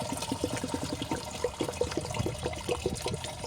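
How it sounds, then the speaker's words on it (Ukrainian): Bleach glugs from a bottle into a toilet cistern as a close, bubbling pour with rhythmic gurgles, steady throughout. "Ось лью в бачок білизну."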